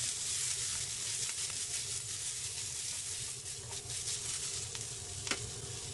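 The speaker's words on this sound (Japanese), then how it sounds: "インゲン入れたら火を、まあ、中火から強火にしていただいて大丈夫です。" Green beans stir-frying with garlic in hot oil over medium-high heat in a home kitchen pan, a loud steady sizzle with faint stirring scrapes running throughout and no talk.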